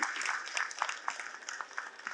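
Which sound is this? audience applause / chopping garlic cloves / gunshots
audience applause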